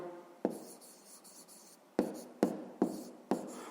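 Pen writing an answer by hand on paper during a fifth-grade math exercise, with a soft scratchy stroke followed by several sharp, close taps and strokes in quick succession.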